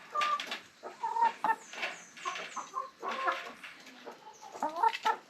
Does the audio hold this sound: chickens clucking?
yes